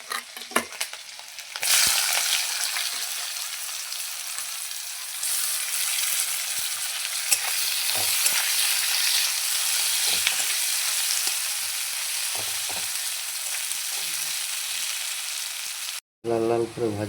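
Onions and slit green chilies frying in oil for a fish and cauliflower curry, a steady loud sizzle running continuously with occasional stirring clatter, briefly cut near the end.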